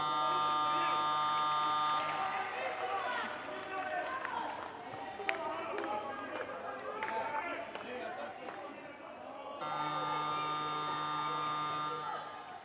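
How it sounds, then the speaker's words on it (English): A harsh, steady electronic buzzer sounds twice at a women's futsal match in an indoor arena, each blast lasting about two seconds, with crowd noise and commentary between them. "The buzzer recalls the 2 sets of players for the restarts."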